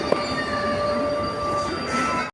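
A train at Tiruppur railway station, a steady loud rumble of rolling cars with thin metallic wheel squeal running throughout, heard from nearby, with no talk.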